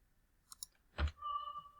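Mouse clicks in music notation software while notes are entered for a choral arrangement: a few sharp, close clicks, followed by a brief tone that sustains after the last click.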